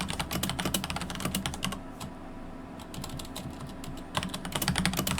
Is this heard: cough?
no